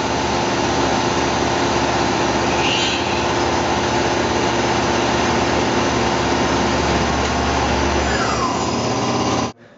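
Tormach PCNC 1100 CNC mill trimming the corners of a steel vise handle, a steady, loud, continuous machining whine with a constant spindle hum that runs unbroken for nearly ten seconds before cutting off.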